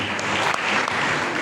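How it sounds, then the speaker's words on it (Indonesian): A church congregation applauds during a sermon service, with dense, steady clapping that fills the whole moment at close range and no pause. "Tepuk tangan bagi Tuhan."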